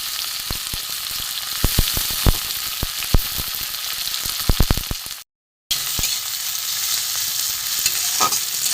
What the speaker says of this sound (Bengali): পেঁয়াজ রসুন টমেটো একটু ভাজা ভাজা হোক